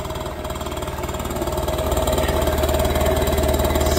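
A warmed-up scooter engine with a carburetor idles steadily at close range before its idle and mixture screws are adjusted. The low, even, throbbing idle grows a little louder partway through, and no one talks over it.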